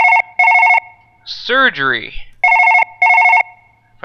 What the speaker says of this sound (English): I see I have a phone call.